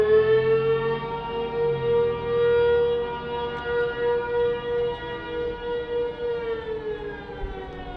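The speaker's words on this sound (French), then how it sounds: "Les sirènes sont incroyables, elles font très très peur." Tornado warning sirens wailing across open country during storm chasing in Tornado Alley, a loud sustained rising and falling tone that dominates the scene, with no talk.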